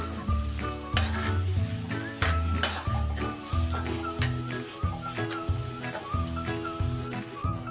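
Pitla, a Maharashtrian gram-flour dish, being stirred in a pan with coriander and coconut, with a steady soft sizzle and scraping over low music-like tones, and a few sharper spoon knocks near the start.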